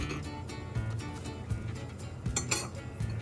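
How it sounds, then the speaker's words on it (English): Utensils clink and scrape against a bowl while pasta dough is mixed with flour and a pinch of salt for homemade manicotti, giving a steady run of close, light metallic knocks and a few brighter clinks. "I will start just mixing a little bit. Put a pinch of salt, and I'll start adding the flour a little bit at a time."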